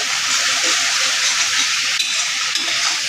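Spice masala for chicken kosha frying and being stirred in a pan, a loud steady sizzle that fills the whole clip with a continuous hiss and faint scraping of the spoon beneath.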